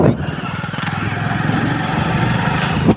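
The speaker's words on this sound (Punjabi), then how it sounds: "ਆਪਾਂ ਬਈ ਮੋਟਰਸਾਈਕਲ 'ਚ ਤੇਲ ਪਾਉਣ ਚੱਲੇ ਆ" A motorcycle engine runs steadily at close range on a trip to buy fuel, a continuous, rough, pulsing drone that holds its level throughout.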